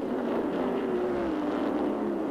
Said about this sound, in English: Dale Earnhardt is just driving the wheels off that car